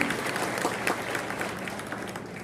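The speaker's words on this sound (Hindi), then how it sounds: "आप सब जरा मंच पर विराजित हमारे शिव भाटिया जी और सम्मानित नेतागणों को ताली बजा के बताओ" A crowd at a Congress party political rally in Morena applauds for the leaders on stage. The clapping is dense and continuous, loud at first and then easing slightly.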